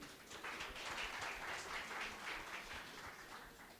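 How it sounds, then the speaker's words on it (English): An audience claps at the Betway SA20 announcement event, a dense, fairly faint patter of many hands that swells and then tapers off slightly. "Let's give him a round of applause, ladies and gentlemen."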